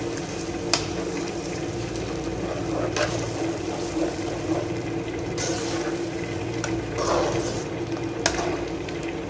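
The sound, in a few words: onion, tomato, chilli and ginger-garlic paste frying in a pan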